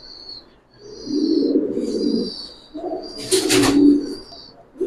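Pigeons cooing close by in a bird market, low soft coos in a few bursts with faint bird chirps above and a brief rustle of wings or handling near the end.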